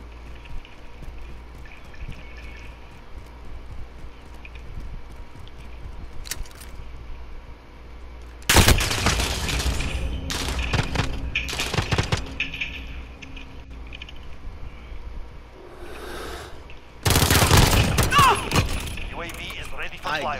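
Pistol fire in the video game Call of Duty: Modern Warfare, with two dense, loud bursts of sharp shots separated by quieter stretches of low game ambience.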